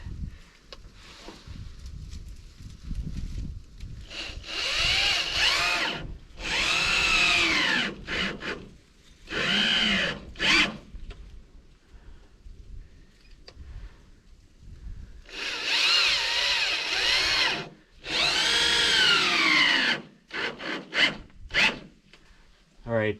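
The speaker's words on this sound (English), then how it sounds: "I'm just screwing the two ends together" A power drill drives screws into a board at a cabin. Several loud whirring bursts of a few seconds each rise and fall in pitch, separated by quieter handling and scraping noises.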